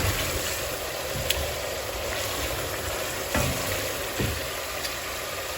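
Sauce for an African ngolo catfish dish simmering in a pan, a steady close sizzle and bubbling hiss with a few soft clicks and knocks, no talking.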